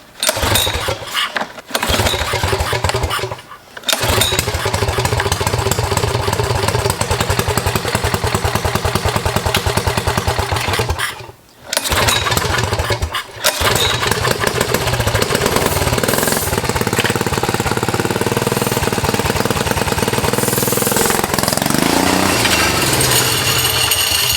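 A Nugget mini bike's small gas engine runs loud and close with a steady, rough, rattling drone. It cuts out or dips briefly a few times, then carries on without talk.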